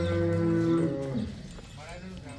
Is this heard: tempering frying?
no